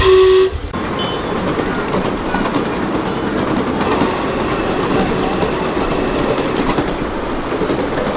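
A train rumbles past close by at Walt Disney's Barn with steady rolling noise and clatter, a brief whistle-like tone at the start, loud throughout.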